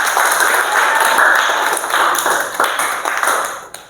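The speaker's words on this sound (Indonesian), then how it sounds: "Beri tepuk tangan untuk temannya." Classroom students applaud a classmate, a dense, steady patter of many hands clapping at close range for about four seconds before trailing off.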